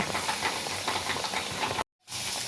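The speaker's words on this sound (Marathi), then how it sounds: "दुसऱ्या साईडनी तळून घेते" Coriander fritters (kothimbir wadi) fry in hot oil, a steady close hiss of bubbling and crackling that cuts out abruptly for a moment before resuming, with no voices.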